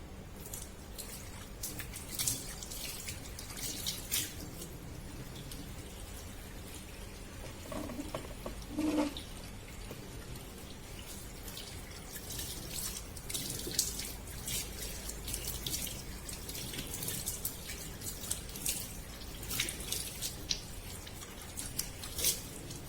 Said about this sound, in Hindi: मैं सुबह सिर्फ ताज़े पानी से ही अपना फेस वॉश करती हूँ